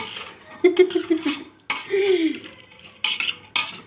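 Cooked beans stirred in a pot, a spoon scraping and clinking against the metal in short bursts, close and fairly loud, with a voice and a cough breaking in between.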